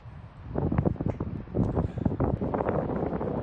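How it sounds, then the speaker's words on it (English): Gusty ocean wind buffets the microphone in uneven bursts at Smith Point beach on the Atlantic, Long Island, New York, a rumbling outdoor roar that rises and falls. "it's a little bit windy up here"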